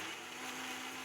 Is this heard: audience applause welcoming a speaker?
no